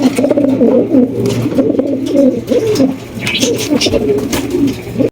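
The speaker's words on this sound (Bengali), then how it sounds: "চমৎকার এক জোড়া ব্ল্যাক ম্যাকপাই কবুতর" A pair of Black Magpie pigeons coo close by in continuous, overlapping rolling calls at a pigeon seller's, loud and steady throughout.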